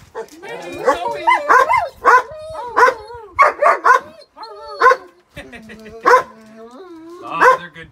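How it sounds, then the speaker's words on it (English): Several excited dogs barking and yipping in loud, irregular bursts close by, with some whimpering between barks, heard from up on a house roof while a Starlink mount is being installed; no speech. "dogs are super excited"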